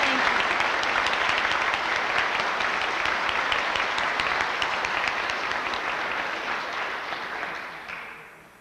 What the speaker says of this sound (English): Let's give the gals another big round of applause.